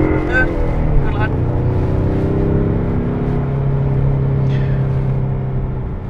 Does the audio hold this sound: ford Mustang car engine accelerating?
yes